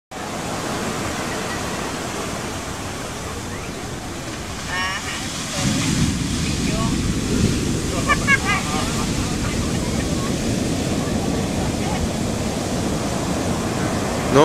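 Large ocean waves crash at Playa el Palmar, Ixtapa, during a heavy swell: a constant roaring surf that swells louder midway as a bigger wave breaks, close and powerful.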